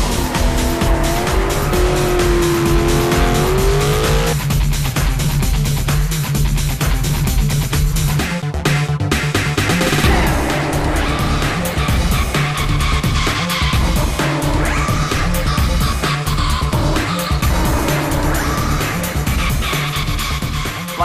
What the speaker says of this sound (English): I choose to use a 650 horsepower Mustang and my rubber for my tires.